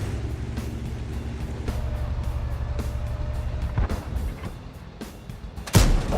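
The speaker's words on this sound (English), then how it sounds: "Artie starts dropping rounds on me" Artillery shells land near a tank in World of Tanks, a series of dull booming impacts over a steady engine rumble, ending with one loud, close blast.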